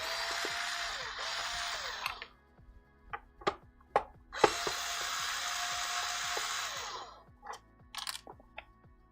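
A power drill drives screws into a Talon Pharaoh model in two long whirring runs, separated by sharp clicks and knocks of parts being handled.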